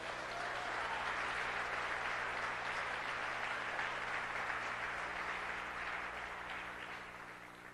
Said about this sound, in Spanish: Dele palmas al Señor, hermanito.